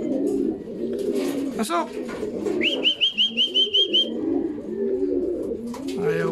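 Racing pigeons coo in a loft, a clear rhythmic run of about eight soft calls plus scattered cooing and chirps, heard close amid steady low murmuring and someone speaking.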